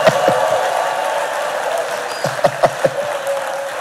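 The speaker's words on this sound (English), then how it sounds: "So can you give them a mighty clap up?" A church congregation claps during a service, the crowd noise steady and fairly loud, with a few sharper claps standing out near the end.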